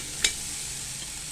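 Chickpeas tossed with salt dry-roast in a pan over a medium gas flame, giving a soft, steady hiss with one brief scrape or clink near the start.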